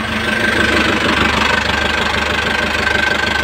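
A car engine that sat unused for four years runs steadily after its first start, giving a loud, close, even idle with a rhythmic pulse and a faint high whine, and no talking over it.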